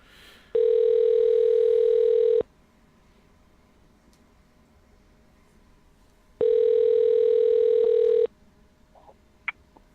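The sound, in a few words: telephone call dialing and ringing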